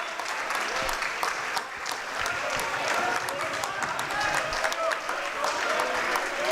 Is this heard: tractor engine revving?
no